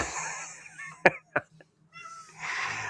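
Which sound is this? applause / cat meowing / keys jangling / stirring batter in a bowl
cat meowing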